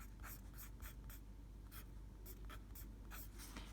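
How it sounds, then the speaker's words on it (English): A pen scratching on paper as factors are written out for an algebra factoring problem, in short repeated strokes, quiet and close with no talking. "I write the factors."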